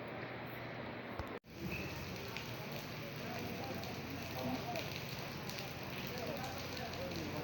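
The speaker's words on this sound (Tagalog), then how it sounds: "Umuulan nga." Rain falls steadily at night, a dense hiss of drops on surfaces that continues evenly throughout, with a brief dropout near the start.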